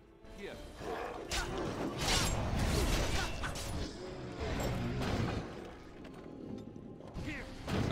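A ballista fires during a battle at Ostagar in the video game Dragon Age: Origins, giving creaking mechanical cranks and heavy whooshing impacts over a dense wash of combat noise.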